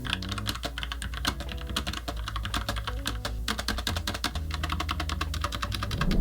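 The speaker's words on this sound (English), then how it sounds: "this is what it sounds like" Steady, fast typing on a quiet Logitech tactile keyboard, soft muted key clicks in a continuous rhythm, close up with no voices.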